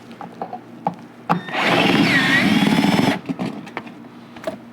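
A 10 mm bolt comes off near the wheel well liner of a 2024 Ford F-350 Super Duty, a close power-tool whir lasting about two seconds, with clicks and knocks of handling before and after.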